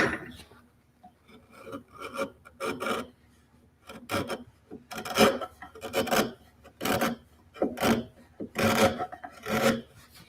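A chisel pared across wood end grain to cut a chamfer gives repeated short scraping, rasping strokes in an irregular rhythm, close and fairly quiet, with no talk.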